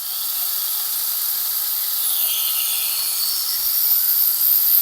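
A small Nano rotary polisher works over the refinished paint of a Rolls Royce, giving a steady, high, whirring hiss that holds at an even loudness throughout, close and alone.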